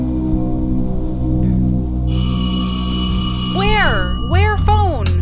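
A telephone rings in the horror video game From the Darkness, a steady electronic ringing tone that starts partway through and carries on loudly beneath an excited voice talking over it.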